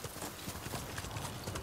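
Horse hooves clip-clop in a quick, steady rhythm, close and fairly loud, with no talk over them.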